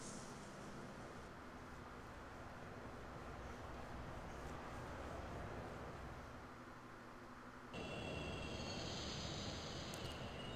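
Train rumbling through Yoyogi Park Station in Shin Megami Tensei 3: Nocturne, a steady broadband rolling roar with a low hum, swelling louder near the end as a bright high whine joins in, no voices.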